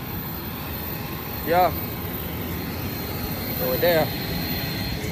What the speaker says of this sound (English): That's the plane that they land at any time.